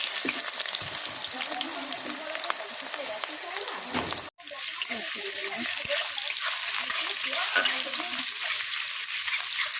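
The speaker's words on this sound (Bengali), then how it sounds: "পেঁয়াজটা ভেজে নেবো" Onion sizzling in hot oil with cumin in a kadai, a loud continuous crackling fry close by with stirring scrapes and a brief break midway.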